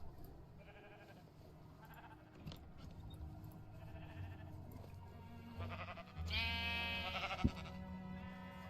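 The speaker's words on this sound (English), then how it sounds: "the sheep does not like to cooperate" Blocky sheep in Minecraft bleating several times at moderate distance, fairly faint against low game ambience, with no talking.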